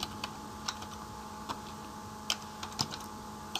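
Quiet keystrokes on a computer keyboard, a handful of irregular clicks spaced apart over a low steady room hum, with no talking.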